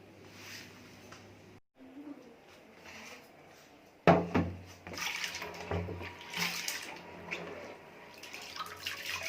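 Soaked lentils being rinsed and rubbed clean in water, a steady wash of running water that swells louder after a brief pause, with a voice talking over it.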